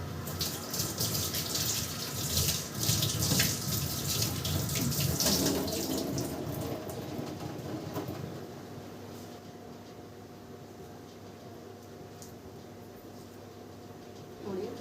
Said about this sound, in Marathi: धुवून घेते कोथिंबीर.